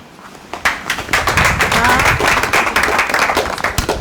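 A youth session audience claps enthusiastically after a brief quiet start, steady dense applause sustained for several seconds with a voice faintly underneath.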